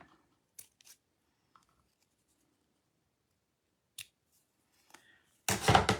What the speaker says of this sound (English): nice sharp scissors to cut it at the angle